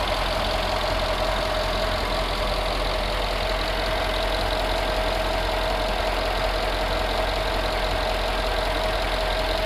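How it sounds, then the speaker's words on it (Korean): Mercedes-Benz CLS63 AMG S 4MATIC (W218) engine idling with the hood open, a steady, even drone with a constant hum running unchanged throughout, loud and close with no talking. "엔진 소리 일정합니다."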